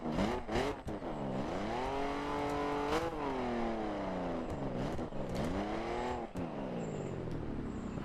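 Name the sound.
car with big exhausts revving, The Crew video game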